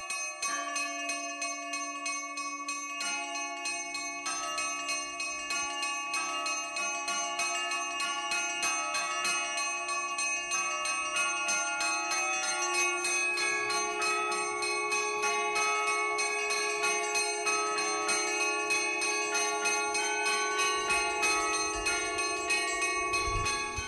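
A monastery church bell rings for matins in a quiet landscape, sustained and rhythmic with overlapping metallic strikes and resonant ringing throughout, loud and alone with no voices.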